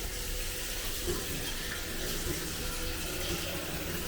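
Steady running water from a tap fills a sink or small tub while a newborn is washed at night, a continuous close gush with no pauses and no speech over it.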